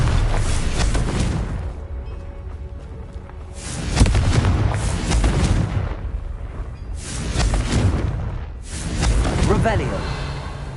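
Confringo fire spells bursting in Hogwarts Legacy, several heavy rumbling explosions that swell and fade in waves, loud and dense, with game audio filling the gaps between blasts.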